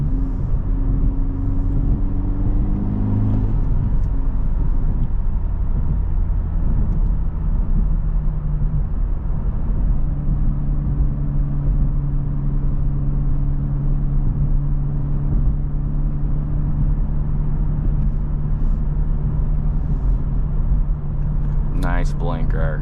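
A Honda Civic Type R FL5 on its stock exhaust drones steadily while driving, with low engine hum and road rumble continuing throughout and the pitch shifting slightly early on.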